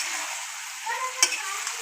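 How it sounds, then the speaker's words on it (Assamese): Duck meat fries in a pan with a steady, close hiss of sizzling fat and a faint stir or tap near the middle. "এয়া এতিয়া ঢাকনিখন গুচাই দিম এতিয়া ধুনীয়া ফ্ৰাই হৈ গৈছে দেখিছেনে"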